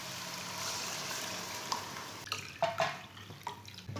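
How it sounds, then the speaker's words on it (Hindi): Milk, one kilogram, is poured into a pan of sautéed carrots, starting as a soft steady stream and turning into gurgles and splashes near the end, close and fairly faint. "1 किलो दूध डाल लेंगे।"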